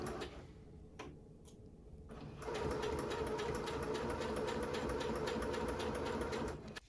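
A sewing machine stitching curtain fabric starts with a few isolated stitches, then runs steadily in a fast rhythmic whir before stopping.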